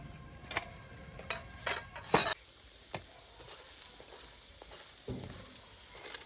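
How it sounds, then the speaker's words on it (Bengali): Spinach paneer parathas fry in a pan, a soft sizzle under scattered clinks and scrapes of a spatula against the pan, a few sharp knocks early on, no talking. "এক এক করে সব পরোটাগুলো ভেজে নেব।"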